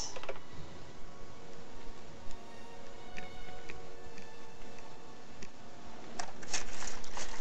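Light, rapid clicking of a computer keyboard being typed on, soft and close, with quiet background hum and a few sharper clustered keystrokes toward the end.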